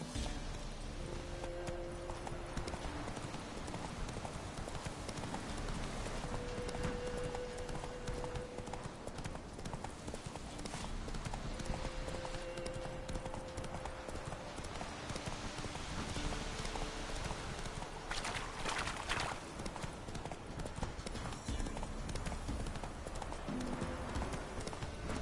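Horse hooves clip-clop steadily through the whole stretch in The Witcher 3, quiet and continuous, with a patter like rain behind them.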